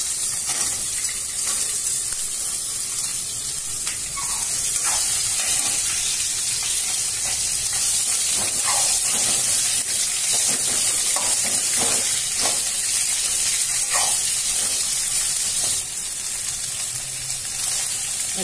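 Ivy gourd (tondekayi) sizzles and fries in a hot pan, a steady bright hiss with scattered crackles and occasional stirring scrapes, close and continuous with no talking.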